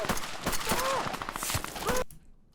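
Airsoft guns fire during an action movie shoot, producing a quick series of sharp, close snapping shots in an irregular burst, mixed with faint whistling tones, before the sound cuts to near silence.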